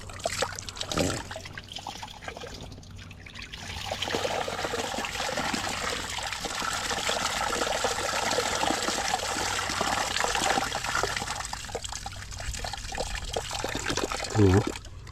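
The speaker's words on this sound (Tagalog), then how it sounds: "Ay, nalabas yung tubig." Water gushing and splashing steadily from the pipe of a newly drilled deep well on a farm, flushed with a hose, a continuous broadband rush lasting throughout with brief voices near the start.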